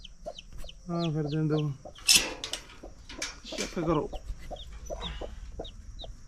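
A hen that has hatched chicks clucks in short bursts among farm sounds, with a few higher chick-like peeps and a sharp squawk, while a person speaks briefly nearby.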